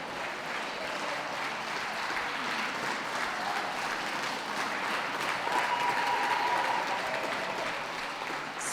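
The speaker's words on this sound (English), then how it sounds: "please can we give a round of applause to those leaving the ring" An indoor dog-show crowd at WELKS gives dogs leaving the ring a sustained round of applause. The clapping is dense and even, slightly distant, and swells a little toward the end without speech.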